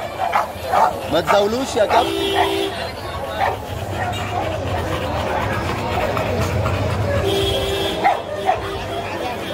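Guard dogs at a Friday dog market bark and yip in short bursts close by, amid crowd babble and people talking and shouting throughout.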